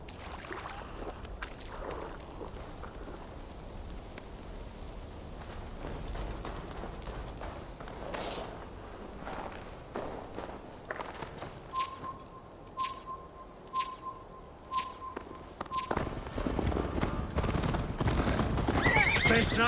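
In Assassin's Creed Valhalla, a horse's hooves clip-clop steadily while it whinnies now and then. The hoofbeats grow louder and faster into a run toward the end, over faint ambient sound.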